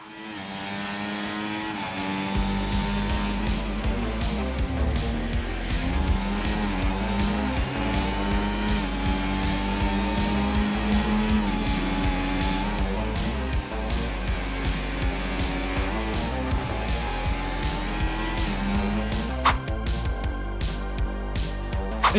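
An F1 car laps Monaco at full speed in the racing game F1 24: a loud, continuous engine howl rising and falling through gear changes, with brief tire squeals, alone with no talk throughout.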